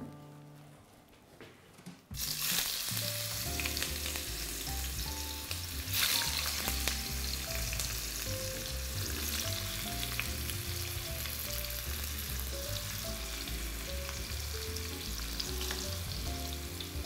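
Kadaif frying in a pan, a loud continuous close-up sizzle that starts abruptly and holds steady, with a soft background melody running underneath.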